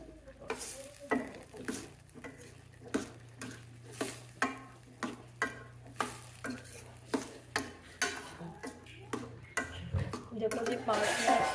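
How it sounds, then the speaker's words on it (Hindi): Boiled potatoes are stirred into a Rajasthani chickpea curry pan. A spoon scrapes rhythmically about once a second over a soft sizzle, with talking in between. "अब इनको आलू डाल देते हैं जी, उबले हुए आलू है।"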